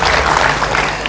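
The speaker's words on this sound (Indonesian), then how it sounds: "Pak Sudibyo Halimuso, kita beri tepuk tangan." Audience applause at an evening Indonesian population forum, a dense burst of clapping filling the room for about a second, close and fairly loud.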